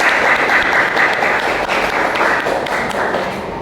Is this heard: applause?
yes